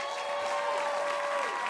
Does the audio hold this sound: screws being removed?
no